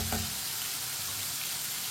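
Tomatoes fry in a pan while cooking lauki sabzi, giving a steady, close sizzle with a faint clink near the start, alone with no talking.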